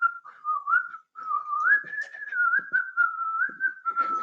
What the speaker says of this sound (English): I could do some whistling